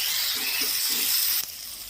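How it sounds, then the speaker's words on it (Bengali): Tomato paste frying in a pan for prawn malai curry, a steady bright sizzle and hiss that holds for most of the moment, then drops slightly softer near the end, with no voices. "5 মিনিট আমি টমেটো পেস্ট দিয়ে কষে নেব। টমেটোর জলটা যতক্ষণ না শুকিয়ে যায়।"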